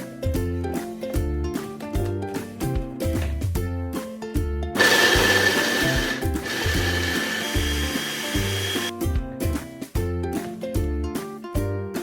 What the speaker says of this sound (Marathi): अशा प्रकारे आपल्याला बारीक करून घ्यायचं आहे.